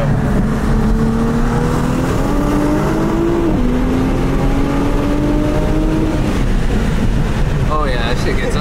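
A stock all-wheel-drive Nissan GT-R R35 pulls hard under acceleration from inside the cabin, loud engine tone climbing steadily with a brief dip at a gear change, while occupants talk excitedly over it.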